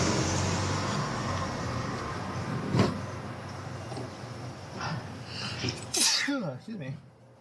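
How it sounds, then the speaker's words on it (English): A single sharp sneeze bursts out over steady road and engine rumble, followed moments later by a short spoken remark. "In 2020, if you sneeze, it's COVID."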